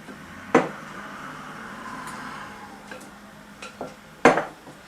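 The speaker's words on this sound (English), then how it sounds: "And I'm going to mix into the rice." Furikake fish flavoring is stirred into rice in a bowl for onigiri, with a few sharp clinks of a utensil against the bowl and soft scraping between them, close and without speech.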